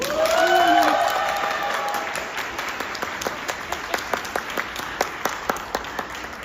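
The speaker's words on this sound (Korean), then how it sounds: "큰 박수 부탁드립니다." Wedding guests applaud at a church ceremony: a full burst of clapping and crowd noise at the start that fades into a thinner, steadier patter of individual claps.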